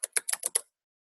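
A few quick keystrokes on a computer keyboard, five close, crisp taps in an uneven burst over about half a second, then silence.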